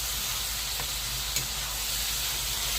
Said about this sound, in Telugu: బెల్లం వేసినాం కదా, కలబెట్టేసి ఇంకా కొద్దిసేపు అయితే మగ్గనిద్దాము